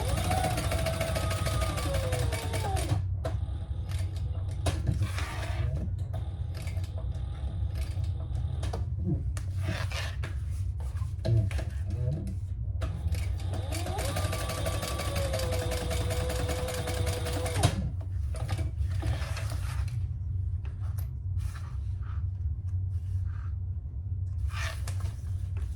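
Sewing machine topstitching a drop-in lining on a Federica garment, long runs of steady mechanical whirring broken by brief pauses, with a low hum and occasional faint clicks beneath.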